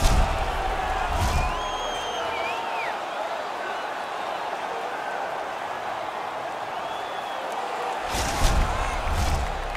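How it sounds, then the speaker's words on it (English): A hockey arena crowd at an Edmonton Oilers vs San Jose Sharks game roars in a broad, sustained wash after a fight, swelling slightly at the start and end. "And the crowd back alive here inside the stadium"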